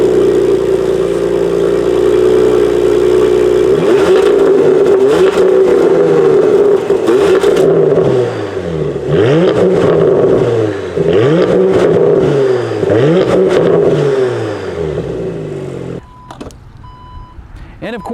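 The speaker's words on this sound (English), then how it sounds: "here is a quick exhaust clip for you" A Porsche Macan Turbo exhaust barks through a series of repeated revs, each rising and falling in pitch, loud and close, before the engine settles and cuts near the end.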